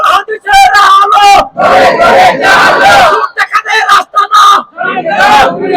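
A large crowd at an outdoor religious gathering in Satkania shouts a slogan in loud unison, rising and falling in rhythmic chanted bursts with brief gaps between calls.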